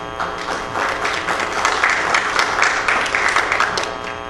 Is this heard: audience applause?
yes